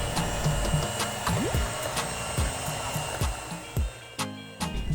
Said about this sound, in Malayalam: പഞ്ചസാരയോട് ചേർത്തതിന് ശേഷം ലോ സ്പീഡിൽ ഒന്നുകൂടെ ഒന്ന് ബീറ്റ് ചെയ്തെടുക്കാം.